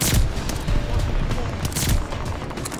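Sniper rifle fire in a first-person shooter game, a dense barrage of booming shots and crackling reports layered together, loud and continuous with no pauses.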